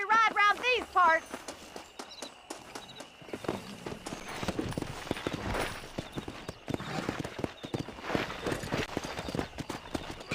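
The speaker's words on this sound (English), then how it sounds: "I'll show you how we ride around these parts." Horse hooves clip-clop steadily while riding in the video game Red Dead Redemption, a repeated close walking rhythm after a brief spoken line at the start, with faint ambient bird calls behind.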